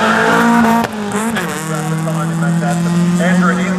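A modest little sprint race car driving out of the circuit at the Leyburn Sprints, engine loud and close with a sharp gear change before settling into a steady, pulling drone.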